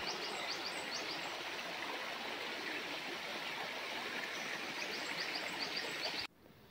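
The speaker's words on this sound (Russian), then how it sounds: "Вот таким образом приятно журчит река" A river in the narrow canyon of the Svirskoye gorge babbles and rushes in a steady, full wash of water for several seconds, then cuts off abruptly near the end.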